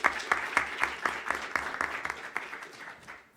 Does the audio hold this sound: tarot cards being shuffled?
no